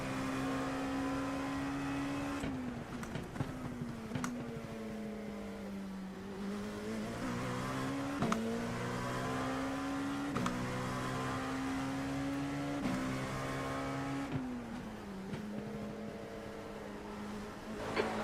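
A race car engine in the iRacing sim at Sebring drones loudly and continuously, pitch rising through the gears then dropping sharply at each shift in a repeating cycle, with no talk over it.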